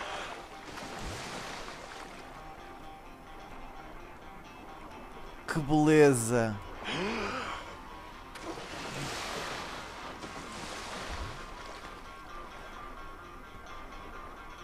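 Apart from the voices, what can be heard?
ocean waves while swimming in the video game GTA V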